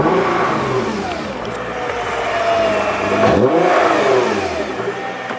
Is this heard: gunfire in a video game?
no